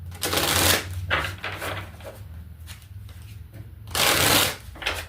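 Close riffle shuffles of a deck of Akashic Record Oracle cards, two loud bursts of rapid flapping separated by softer card handling.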